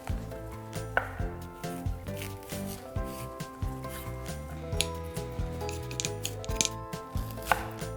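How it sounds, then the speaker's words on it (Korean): Green onion (daepa) sliced with a knife on a cutting board in a home kitchen: a steady series of close, crisp chops repeating at an even pace, set against background music. "파기름에 볶아줄 거라서 대파를 송송 썰어 줄게요."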